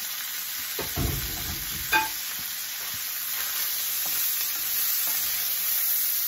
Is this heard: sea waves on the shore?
no